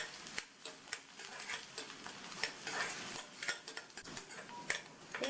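Onions and whole small dried red chillies are stirred in a pan for a chow chow poriyal, with soft sizzling and repeated light scrapes and clinks of a spoon against metal, fairly quiet and close.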